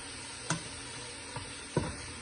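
Butter melts in a pan for an empanada filling with mushrooms, giving a faint, quiet background sizzle broken by three small clinks or stirs.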